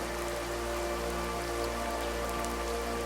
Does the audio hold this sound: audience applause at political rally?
no